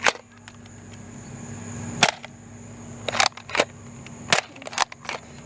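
Sharp, snappy pops from Nerf AccuStrike and Little Valentine toy blasters being fired one after another, irregularly spaced over several seconds, close and fairly loud above a steady low mechanical hum.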